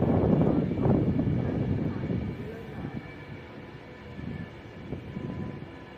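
A train rumbles into Coventry station on the West Coast Main Line, loud at first and then easing to a lower, steadier rolling noise, with some wind buffeting the microphone.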